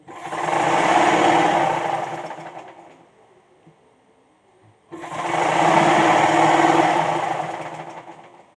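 Sewing machine stitching fabric for a baby frock, running loud and steady in two long bursts separated by a pause of near silence.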